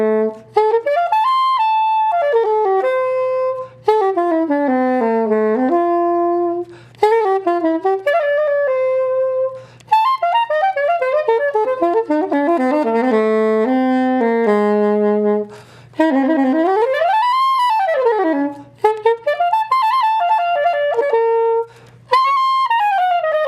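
A curved sopranino saxophone plays bright, reedy melodic phrases with sweeping runs up and down, sustained notes separated by short breath pauses, close and loud with no talking.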